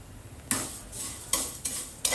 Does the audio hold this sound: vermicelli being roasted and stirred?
yes